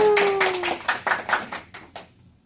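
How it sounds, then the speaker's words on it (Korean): Workshop audience clapping in short bursts, several quick rounds of hand claps that fade out over a couple of seconds, fairly close and dry. "박수 한번 주셔야 있어 보이나요?"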